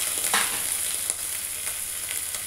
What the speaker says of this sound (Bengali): এটা রসুন বাটা দিয়েছি। একটু নাড়াচাড়া করে একটু ব্রাউন কালার হয়ে গেলে